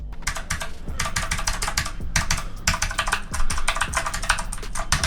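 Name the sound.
typing on mechanical blue switch keyboard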